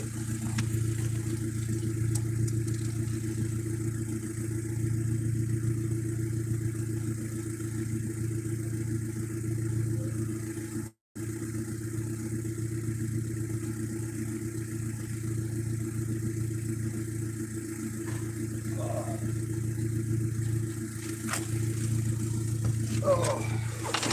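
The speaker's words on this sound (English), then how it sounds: "I better park my vehicle." A car engine runs steadily throughout while the vehicle is being parked outdoors, a continuous mid-pitched hum with brief interruptions and faint background activity.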